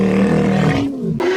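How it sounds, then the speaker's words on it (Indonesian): A loud, deep lion roar used as a low-pitched sound effect for a T-Rex: a single sustained growl lasting about a second, ending with a brief gap and a short tail. "sedikit efek suara singa frekuensi rendah"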